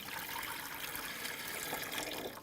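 Water pours steadily from a jug into a sous vide cooker tank, a continuous splashing, trickling rush heard alone and fairly close.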